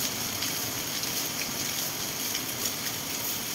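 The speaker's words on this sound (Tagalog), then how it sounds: "Lakas ng ulan." Heavy rain pours steadily in the Philippines, a dense continuous hiss of drops with no pauses, fairly close and even throughout.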